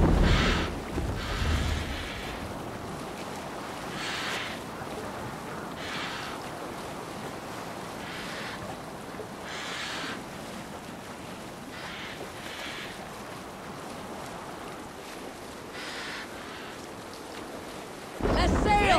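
A sailing ship in Assassin's Creed Valhalla ploughs through open sea, with steady wind rush and rolling waves splashing against the hull in a continuous wash, and periodic surges of spray over it.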